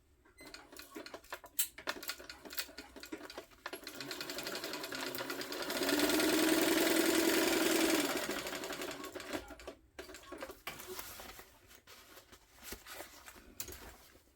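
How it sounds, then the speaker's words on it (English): A sewing machine stitches a tote bag seam: quiet handling and fabric shuffling come first, then a steady rapid mechanical whir and needle chatter for about two seconds in the middle, fading back to faint handling noises. "I'm gonna sew down, across the bottom, and back up."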